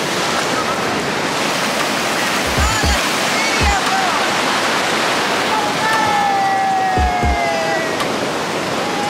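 Ocean surf at Coco Beach, a loud continuous wash of breaking waves close by, with a few low thumps and people talking faintly underneath.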